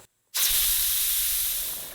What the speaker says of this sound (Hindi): अब मैं फ्लेम बंद करके इसकी स्टीम निकाल